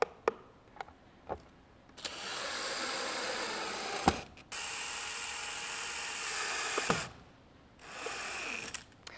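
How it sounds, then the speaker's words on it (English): A power drill drives screws back down into a plastic part, several short bursts of buzzing motor whine separated by brief pauses and clicks, close and moderately loud. "take the 4 longer screws that we have and screw this back down"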